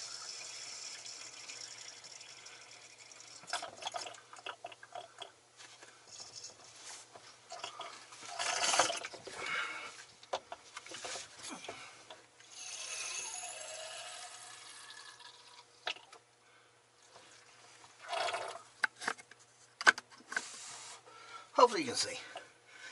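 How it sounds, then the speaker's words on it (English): Distilled water is poured into a vehicle battery on a cold day, giving irregular trickling, splashing and rubbing sounds in short bursts with quiet gaps, fairly close. "Just putting water in a battery."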